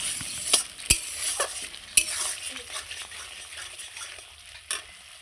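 Spice paste fries in a pan with a soft continuous sizzle, punctuated by several sharp clinks and scrapes of a spoon stirring against the pan, close and moderately quiet.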